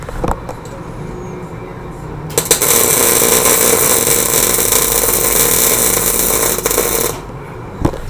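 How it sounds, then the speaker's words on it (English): A Miller CP 250 TS welder laying test welds at about 20 volts and 160 amps gives a loud, steady crackling buzz that starts abruptly, runs for several seconds and cuts off, with clicks and shop noise before and after. "So we're just going to do a couple test welds here."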